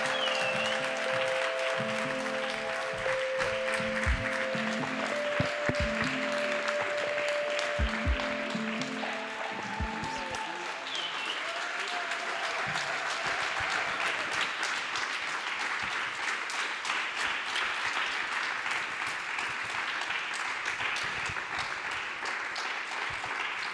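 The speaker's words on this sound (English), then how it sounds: "So let's welcome, please, with a big warm applause" An award ceremony audience applauds the prize winners at length, with steady, sustained clapping while a musical fanfare plays over the opening seconds.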